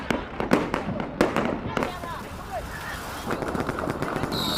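Chinese New Year fireworks crackle and bang in rapid bursts, loud sharp pops near the start that thin into scattered distant crackling, with a hum of background noise.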